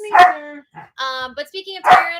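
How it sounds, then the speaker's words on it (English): A pet dog barks sharply twice, close and loud, at the start and end, while someone talks in between on a live podcast. "Sorry about the barking."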